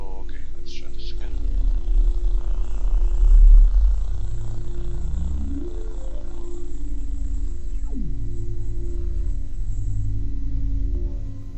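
A buzzing synthesizer drone made in Jeskola Buzz, with glitchy artifacts and slow pitch sweeps gliding up and down, continuous and fairly loud.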